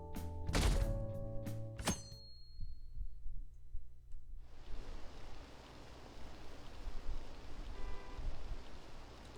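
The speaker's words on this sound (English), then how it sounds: "Oh, it's raining." Steady rain hiss in the video game Persona 5 comes in about halfway through, following a few tones and soft thuds, and continues evenly to the end with no talking.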